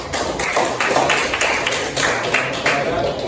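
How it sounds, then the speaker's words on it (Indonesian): A group claps briefly in a classroom for the third student group, with scattered uneven claps over a short stretch and voices underneath. "Tepuk tangan dulu kelompok 3 dulu"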